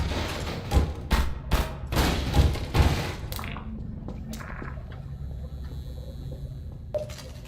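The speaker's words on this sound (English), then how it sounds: "Just have to break the crates with my guns." Rapid gunfire in a video game blasting open crates, a burst of close repeated shots and thuds over the first three seconds, then a quieter stretch of low game ambience with a few faint clanks.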